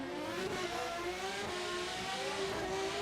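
Drag race cars launch from the start line at Englishtown, engines revving hard and rising in pitch as they pull away, a loud continuous roar with no talk.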